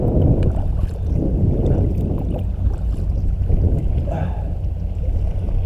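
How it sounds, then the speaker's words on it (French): A passing ship's low, rumbling engine drones steadily nearby, heard from a kayak camping spot, amid wind buffeting the microphone and water noise, with no talking. "Je vais attendre que le navire passe"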